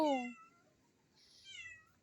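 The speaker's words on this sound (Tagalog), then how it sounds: "kung may naririnig kayo na nagmamarumar pusa namin" A house cat meows, one loud, close, drawn-out cry at the start, then a fainter second meow a moment later against a quiet room.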